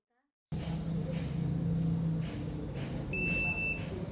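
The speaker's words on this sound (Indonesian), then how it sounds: "terdengar bunyi bip pendek sebagai tanda berhasil" A QR code scanner in a digital school enrollment system gives a brief electronic beep to confirm a successful scan, a thin tone heard once under low background hum and room noise.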